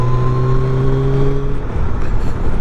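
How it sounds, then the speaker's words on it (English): An old, clean Mercedes car passes by close and loud, its steady engine tones holding and then sliding lower as it goes past, under a continuous road roar. "Nice clean Mercedes, lovely old car."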